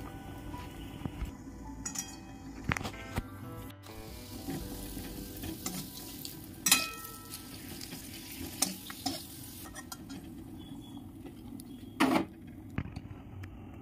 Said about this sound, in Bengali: আমার জন্য ভাজা পাঁপড়, বনি আবার ভাজা পাঁপড় খান না